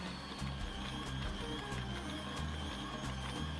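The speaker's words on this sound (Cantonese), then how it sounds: "我哋就可以調高攪拌器嘅速度" A stand mixer kneads focaccia dough at high speed, producing a steady mechanical whir with a rhythmic thumping pulse throughout.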